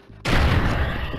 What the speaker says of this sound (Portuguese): a primeira coisa que eu vou fazer é tacar essa granada lá no meio, velho